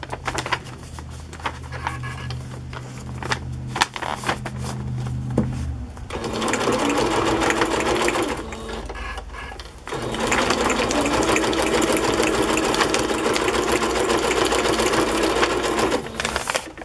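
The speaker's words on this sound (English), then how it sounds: "I'm going to just stitch down this side now." A sewing machine stitches down the side of a paper craft page. Its close, busy whirring runs steadily with a short break partway, then continues to the end.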